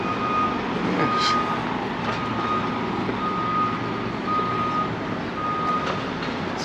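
A reversing bus on a street in Santa Ponsa, Mallorca, sounds a steady series of evenly spaced warning beeps over a constant rumble of engine and traffic, fairly loud and close, with no talk.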